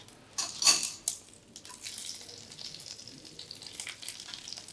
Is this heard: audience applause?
no